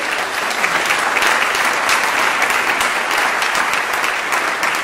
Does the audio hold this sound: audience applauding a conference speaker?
yes